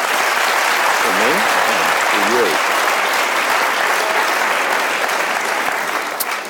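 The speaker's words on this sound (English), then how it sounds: "he deserves a great round of applause" Audience applause at a live interview event: loud, sustained clapping from a crowd that fills the whole stretch, with a brief spoken voice over it near the start.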